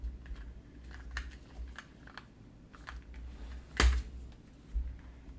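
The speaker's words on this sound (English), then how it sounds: "Just get my combo tape runner here." A combo tape runner laying down double-sided tape, faint soft clicks and light scratchy ticks at close range, with one sharper snap near the end over a low background hum.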